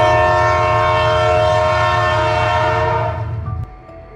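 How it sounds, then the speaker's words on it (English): A powerful locomotive in the BeamNG.drive game races along the track with its horn blaring: a loud, sustained multi-tone blast over heavy rumbling wheels that carries nearly the whole stretch, then drops off abruptly near the end. "The powerful locomotive was rushing along the track, sounding alarm bells."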